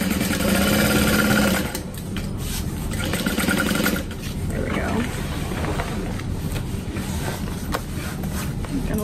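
Close, continuous whirring from a sewing machine running a seam on a duffel bag, steady and fairly loud throughout with a slight change in pace early on.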